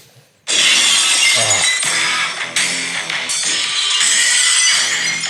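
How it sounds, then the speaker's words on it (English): Glass-smash wrestling entrance sound effect, a sudden loud shatter of breaking glass followed by several seconds of crashing, tinkling shards, close and dominant with no talk. "Just hearing that glass smash, eh?"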